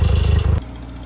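A tractor engine chugs loudly while pulling a disc through garden soil, a rapid pulsing throb that suddenly drops to a quieter, smoother run partway through.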